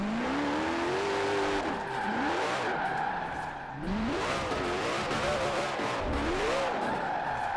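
A Koenigsegg Jesko hypercar in Forza Horizon 4 roars through repeated gear sweeps, its engine note rising and falling over several shifts alongside tire squeal and skidding, loud and close throughout with a brief dip midway.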